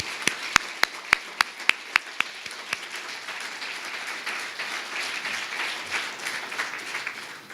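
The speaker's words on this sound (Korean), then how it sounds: "박수를 한번 쳐야 되겠어요" Audience at a Washington forum marking the 100th anniversary of Park Chung-hee's birth applauding: a few sharp, distinct claps ring out first, then dissolve into a sustained, fairly distant wash of clapping.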